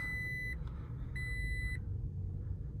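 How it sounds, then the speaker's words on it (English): Startup chime from a Toyota Tacoma pickup with the 2.7 engine, two sustained electronic beep tones over a low idling engine rumble, fairly close and alone without talk. "I'll let the Toyota beep a little bit."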